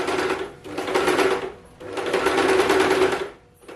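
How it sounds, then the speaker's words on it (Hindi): A sewing machine runs a zig-zag stitch across fabric while old clothes are being reused, with two sustained bursts of steady mechanical whirring separated by brief pauses. "उसके ऊपर हम मशीन से ही जिग-जैग टाइप की सिलाई कर देंगे"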